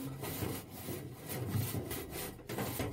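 A homemade brush scrubs the inside of a dryer vent duct, loosening stuck dust from its top and sides, giving a steady rough rubbing and scraping that runs throughout without pause.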